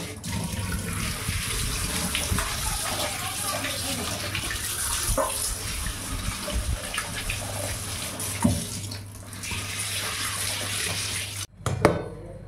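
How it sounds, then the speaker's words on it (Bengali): Tap water runs steadily while rohu and pabda fish are washed in a home kitchen, a continuous splashing rush with a few brief knocks and clatters near the end; no one speaks. "এই যে মাছগুলো এবার আমি ধুয়ে নেব।"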